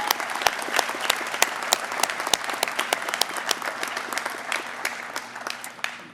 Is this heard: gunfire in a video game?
no